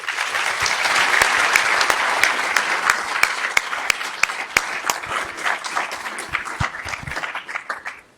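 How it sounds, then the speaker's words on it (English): An audience at an innovation leadership summit applauds a panel, with sustained dense clapping that gradually thins into scattered individual claps before fading out. "Can we have a great round of applause for our panel?"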